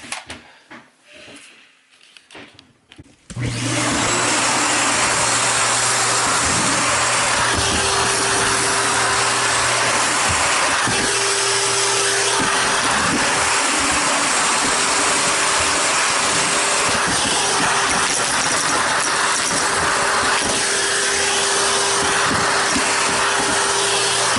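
A Shark or Dyson vacuum cleaner fitted with a soft brush floor tool roars on after a few seconds of quiet and keeps up a loud, steady whine, with faint rubbing and knocks from the brush moving across the floor.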